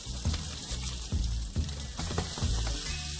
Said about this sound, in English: So our fiddleheads and our yuchoy are starting to saute up nicely.